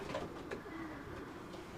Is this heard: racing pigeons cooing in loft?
yes